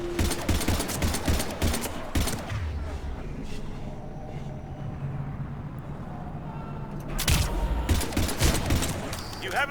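Sustained rapid automatic gunfire from the Mass Effect 3 video game fills the scene in dense bursts that ease off mid-way and then return loud at the end, with game voices underneath.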